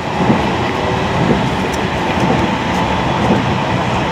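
Steady, loud rumble of an old passenger train on the Tohoku Main Line rolling on rails, with a continuous rattle and faint rhythmic clacking throughout.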